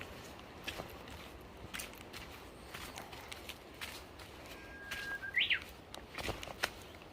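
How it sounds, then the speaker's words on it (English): A bird sings a short rising, warbling phrase amid faint outdoor background with cicadas and scattered clicks, fairly quiet and moderately distant, on Jeju Olle Trail Route 10, Jeju Island, South Korea. "That bird is really, really pretty sounding."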